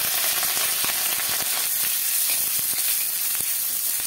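Ginger, green chillies and leaves fry in a pan for sabudana upma, giving a steady close sizzle with scattered crackles and pops throughout, no voices.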